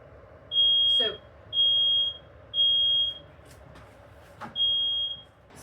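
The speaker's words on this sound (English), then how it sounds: "I apparently am broiling, and it turned the fire alarms on." A kitchen smoke alarm set off by broiling sounds four loud, piercing, evenly spaced beeps, about one per second, with faint thuds and movement between them.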